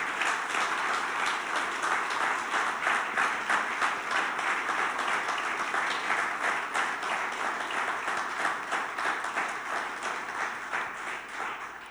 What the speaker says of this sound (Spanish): dale tu mejor aplauso al Señor